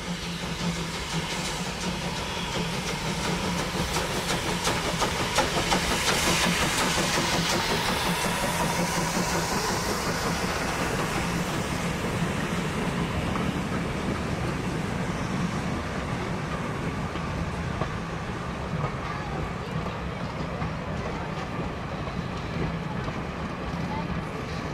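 A train led by ÖBB locomotive 2 in a triple-headed consist on the Sursee-Triengen railway rumbles past with a continuous clattering, rolling roar, loud and close, holding steady throughout with rhythmic wheel noise.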